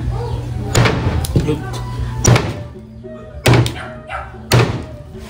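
A heavy blade chops through a pork leg (pata) on a board, five sharp loud thunks at uneven intervals, with voices talking between the blows.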